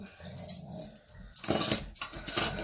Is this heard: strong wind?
no